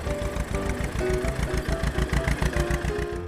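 A chugging tractor engine idles steadily nearby, its rapid rhythmic thumps running continuously with no talk.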